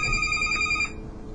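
A telephone bell rings steadily and fairly close for just under a second, then cuts off, leaving faint room noise.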